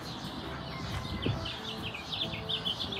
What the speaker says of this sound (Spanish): pero oigan el canto de los pajaritos